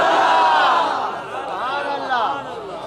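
A crowd at a religious gathering chants slogans in loud unison, the shouts swelling and falling close by for a few seconds.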